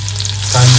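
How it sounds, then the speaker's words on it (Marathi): Mustard seeds, garlic and cumin hit hot oil in a pan for tempering, a loud steady sizzle that swells and brightens over a short moment, close and alone. "इकडे फोडणीसाठी ना सर्वात पहिले 1 चमच राई घालून घेतोय. लसूण 1 चमच जिरा"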